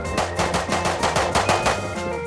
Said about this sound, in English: I'm shot at here. I'm headshot once, hit him twice. Hit him again, but I'm hit again.